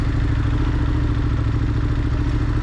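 A Ducati Monster 1200S engine runs loud and close, a constant rough mechanical rumble and clatter with no clear break for a gear change.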